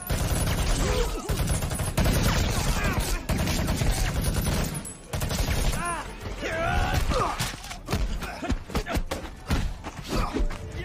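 Gunfire rings out in an action movie scene, with rapid bursts and single loud shots mixed with thuds, mechanical clatter and dramatic score. Voices and effects overlap throughout.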